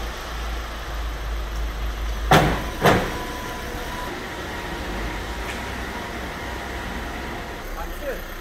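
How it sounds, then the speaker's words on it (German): A 12-year-old Audi A3 idles steadily while warming up at a vehicle inspection, giving a low, even rumble near the car, broken by two sharp knocks early on. "Der Motor läuft jetzt noch mal warm."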